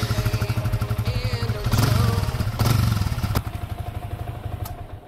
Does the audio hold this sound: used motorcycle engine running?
yes